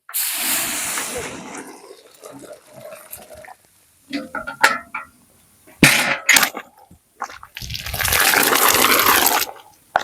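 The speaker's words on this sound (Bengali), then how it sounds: "এবার ডালটা দিয়ে দেবো।" Dal is poured into a cooking pot, ending in a sustained splashing pour after scattered clatter and handling noises. Brief voices come in between.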